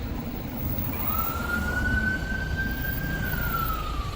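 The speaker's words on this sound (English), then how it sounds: "Oh, that's not the police car, that's the ambulance." An ambulance siren wails from a distance, one long rising-and-falling tone sweeping over steady traffic rumble, moderately loud and unaccompanied by voices.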